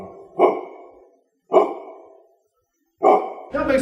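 A dog gives three separate loud barks at evenly spaced intervals, close by, with silence between them and a brief burst of other noise at the end.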